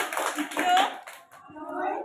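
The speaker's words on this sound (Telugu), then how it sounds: "క్లాప్స్ కొట్టండి పిల్లలు" Anganwadi children clap together in a brief burst of applause, with someone speaking and children's voices mixed in.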